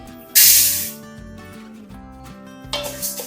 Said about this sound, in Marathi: मूग डाळ भाजायची